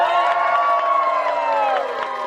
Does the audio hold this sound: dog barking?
no